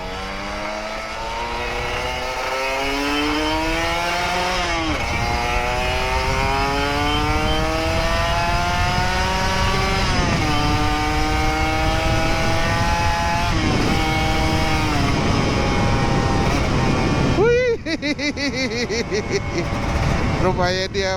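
An old Kawasaki Ninja RR 150 motorcycle, ridden again after two years unused, revs repeatedly up close. Its loud engine note swells and falls in rising sweeps, with a sharper burst of revving near the end.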